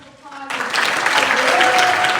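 Applause bursts out suddenly from the audience at a wheelchair pageant crowning ceremony, dense and steady after a brief quiet lead-in, with a few voices mixed into the crowd.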